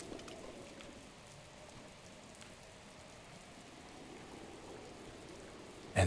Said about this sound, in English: And then it rained everywhere.